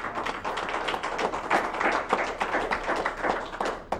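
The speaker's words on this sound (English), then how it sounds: "let's have a round of applause for this young man" Audience applause at a live talk show, dense continuous clapping from a crowd heard up close, steady and lively for the whole few seconds.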